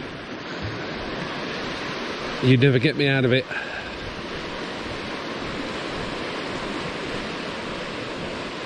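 A river swollen with peat-brown water flows along Hadrian's Wall, a steady broadband rushing that fills the background while someone speaks briefly over it.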